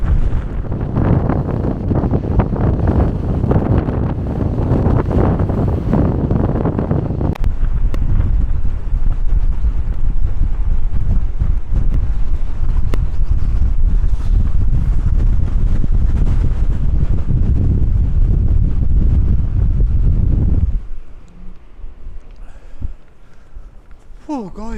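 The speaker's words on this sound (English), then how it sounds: "it's a bit windy, to say the least." Strong coastal wind at Dunskey Castle buffets the microphone with heavy, continuous roaring gusts for about twenty seconds, then drops to a lighter rumble as a voice speaks briefly near the end.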